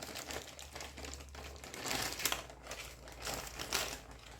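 Parchment paper crinkles and rustles close up while a pumpkin roll cake is rolled tightly in it, a soft, irregular crackling with a low background hum.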